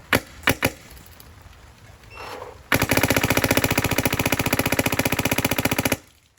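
Shots fired through a PWR barrel: a few separate single cracks at the start, a short pause, then a long rapid automatic burst lasting about three seconds, loud and sharp with quick even repetition, then silence.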